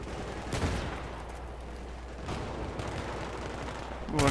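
Gunfire striking the player in Battlefield 3 on the Sharqi Peninsula map: a few scattered, muffled shots and impacts over a low rumble, with a sharper burst at the end.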